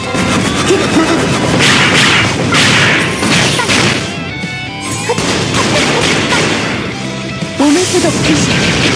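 Loud, dense artillery blasts from the online action game Closers crash and boom one after another in a near-continuous barrage, with short dips between waves of impacts.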